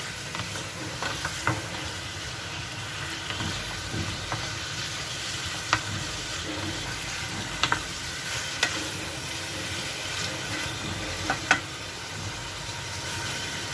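Chicken pieces fry in hot oil, including feet, giving a steady close sizzle with scattered small pops and occasional sharper ticks of utensils, with no voices heard.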